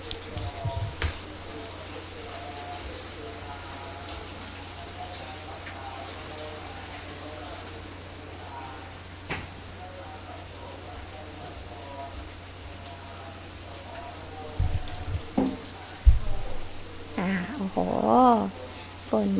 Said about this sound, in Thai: ฝนตกหนักมากเลย